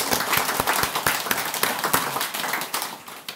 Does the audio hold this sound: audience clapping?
yes